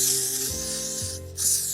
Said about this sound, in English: by adding a little freeze spray here